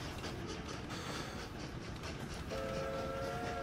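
Trains rolling through the Train Valley video game, a faint, steady mechanical rumble with a brief tonal whistle-like chime entering toward the end, no voices.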